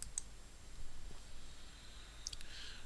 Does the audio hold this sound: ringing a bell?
no